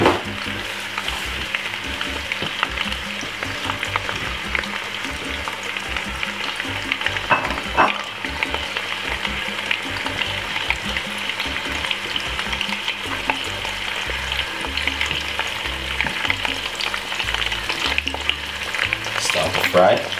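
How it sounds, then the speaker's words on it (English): Eggs and bacon fry steadily in a pan for a Saturday breakfast, a continuous close crackling sizzle with small spits and pops and no voices. "start to fry"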